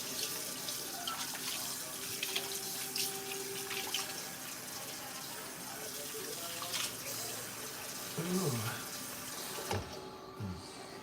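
Tap water runs steadily into a kitchen sink for several seconds, a continuous close rushing stream with faint clinks and brief voices underneath toward the end.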